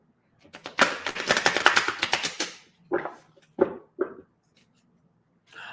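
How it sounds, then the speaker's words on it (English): A fast, fluttering riffle of tarot cards being shuffled, followed by a few separate softer card taps and slaps, close by with no talking. "Give the cards a good shuffle."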